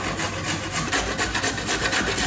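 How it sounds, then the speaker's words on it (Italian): Peeled carrots rasped against the largest holes of a kitchen grater in a home baking setting, a steady close scraping of quick repeated strokes with no talking. "E ora le grattugio sui fori più larghi."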